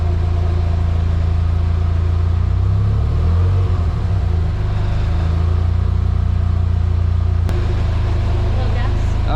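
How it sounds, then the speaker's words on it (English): A Nissan 240SX with a CA18DET engine, just off jackstands, idles in a loud, steady low rumble with a brief rev as its rear wheels spin, close by with speech over it. "the rear wheels are spinning. Hit the gas a little bit"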